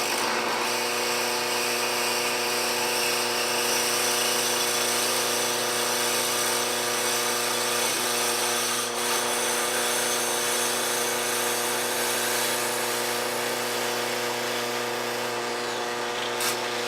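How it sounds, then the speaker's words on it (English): Power drill boring a 7mm hole down the length of a pen blank, a steady high whine with constant tone, smooth and unbroken throughout, loud and close with no talking. "I'm going to go ahead and drill that 7mm hole down the length of the pin blank."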